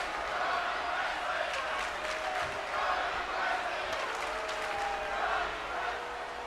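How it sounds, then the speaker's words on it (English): Wrestling arena crowd in the WWE 2K24 video game, a steady roar of cheering and applause from a large audience, continuous and moderately loud, with commentary-like voices faintly blended in. "The Mayhem crowd here tonight at Fully Loaded is definitely hyped up for Johnny Wrestling"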